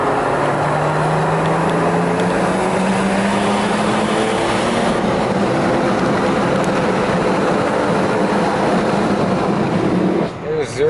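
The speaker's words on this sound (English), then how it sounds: "Let me get around this corner and I'm going to floor it for you." A 1995 Mercedes-Benz W124 station wagon accelerating at full throttle, its engine note rising steadily in pitch for several seconds as heard from inside the cabin, loud and sustained before easing off near the end.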